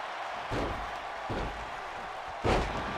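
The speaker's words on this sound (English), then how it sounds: "As Hogan just slamming the back of the head of Warrior into the mat" Heavy thuds of a wrestler's head being slammed into the mat in WWE 2K25 as Hulk Hogan faces the Ultimate Warrior, with several dull impacts landing among steady arena crowd noise.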